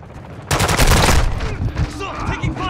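Gunfire in an online first-person shooter set at Al Mazra. A sudden loud burst of rapid automatic fire opens the clip, then trails into scattered shots and echoes while players talk over it.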